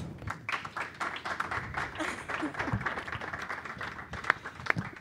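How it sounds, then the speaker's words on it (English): Audience applause for special guests at a museum design talk, moderate scattered clapping from a seated crowd with some louder individual claps near the end. "a round of applause for our special guests"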